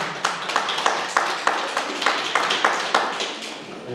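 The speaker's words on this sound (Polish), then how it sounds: "Także wielkie brawa dla pani." Applause from an audience at a Women's Day concert in a community culture centre, a steady patter of many hands clapping with regular beat-like accents, fairly close and continuous throughout.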